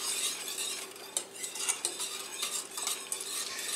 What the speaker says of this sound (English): We have to bang around those pots and pans, right?